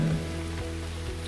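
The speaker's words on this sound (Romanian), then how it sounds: "Am ploaie." Rain falling outdoors at night, a steady soft wash of drops under a low constant hum, fairly faint and with no talk.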